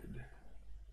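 Keys clicking on a computer keyboard during coding work, a short run of soft, close taps ending in a sharper burst of clicks.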